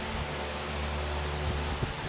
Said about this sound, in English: Excuse the noise. I've got two fans going on.